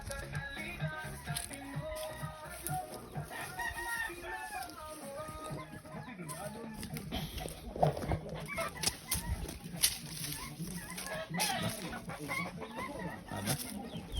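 Bisaya native chickens cluck nearby in a flock, overlapping clucks and squawks in irregular bursts with occasional louder calls, and people talk faintly in the background.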